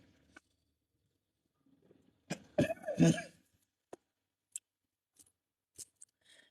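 A person coughs in a short, harsh burst, followed by scattered small clicks and taps in an otherwise quiet room.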